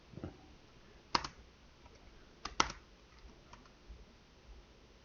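Tab and other keys on a computer keyboard are pressed a few times: sharp, close single clicks, including a quick pair, spaced apart over otherwise quiet room tone.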